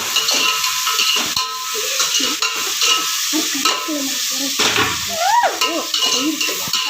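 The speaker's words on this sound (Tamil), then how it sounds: "அடுத்தது தக்காளி பூண்டு போட்டுக்கலாம் நல்லா வதங்கிட்டு இருக்கிறேன்" Onion, tomato and garlic sautéing in a pan for a Tilapia (jilebi) fish curry, a steady hiss and sizzle with spoon stirring and scraping throughout, close and fairly loud, with a brief high whine near the end.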